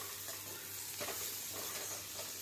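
Wheat and millet bhakhari tempered in a hot pan gives off a dense, loud sizzle with a few soft stirring scrapes, steady throughout and close up.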